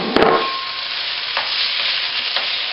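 Diced zucchini and red pepper sizzle fast in a hot pan, a loud, close, dense frying hiss with a utensil clink at the start and a couple of soft stirring scrapes.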